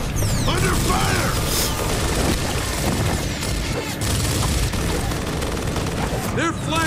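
Heavy gunfire from Gears of War: Ultimate Edition, with dense rattling automatic bursts, mechanical clanks and impact crashes filling a chaotic firefight, loud and continuous with game voices shouting in the mix.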